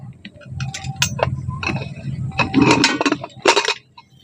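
A metal lid being lifted off a pot of freshly popped popcorn: a close, busy run of clinks, scrapes and rattles over about four seconds, with a sharper metallic clatter near the end.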